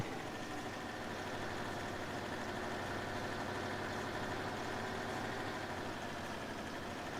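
Steady, unbroken drone of a tractor engine in Farming Simulator 19, running smoothly at an even pitch throughout with no voices.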